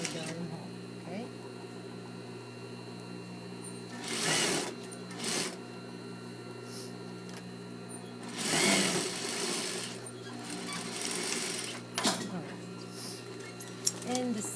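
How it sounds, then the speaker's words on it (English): Sewing machine stitching the side seams of a shirt-dress at half-inch allowances, a steady mechanical hum running throughout with a few louder whirring bursts, recorded close and alone. "we're going to sew the side seams with half an inch seam allowances from the very edge of the armhole, very top of the armhole"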